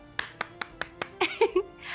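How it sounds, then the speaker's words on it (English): Children clap fast at a preschool church gathering: a quick run of five sharp, evenly spaced claps, then a looser flurry of softer, ragged claps near the close. "Now let's clap fast."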